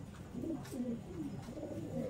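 A pair of big Kaldom pigeons coo close by in soft, low, rolling phrases that repeat in a steady rhythm, with no other sounds over them.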